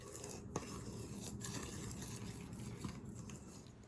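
Biscochito dough mixed with orange juice being stirred in a bowl, a steady scraping and swishing with a couple of sharp clinks of the utensil against the side, close and continuous.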